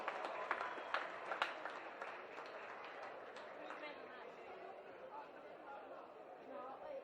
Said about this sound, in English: Can we get another round of applause for our runners-up Mittagong Lions and a fantastic effort?